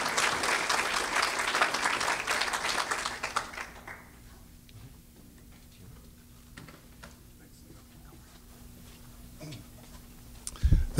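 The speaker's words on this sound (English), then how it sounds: "You can clap, yes, yeah, you can." An audience at an evening public meeting on nicotine addiction claps for a few seconds, then the applause fades into a quiet room with faint shuffling and small knocks and a brief burst of noise at the end.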